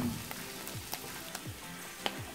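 Mushrooms with parsley frying in a pan, a steady close sizzle broken by several sharp scraping stirs of a utensil, with no talking.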